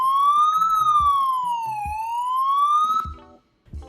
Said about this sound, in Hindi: तो यहाँ पे मैं ऑन करता हूँ सायरन को।